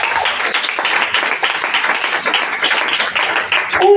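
A church congregation claps and applauds the Lord together, a steady dense patter of many hands that stays loud and continuous throughout.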